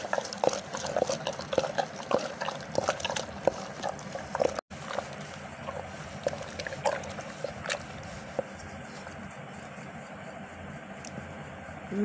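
Wooden madani churner swishing through milk as it turns into homemade butter, a rhythmic sloshing and stirring with splashy liquid strokes, close and fairly loud, continuing throughout.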